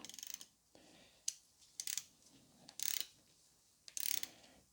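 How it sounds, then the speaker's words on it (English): Torque wrench ratcheting while tightening new big-end bearing bolts on a BMW 116i engine, four distinct bursts of sharp clicking spaced about a second apart, close and clear with a quiet gap between each. "Take a torque wrench adjusted to 20 Newton meters."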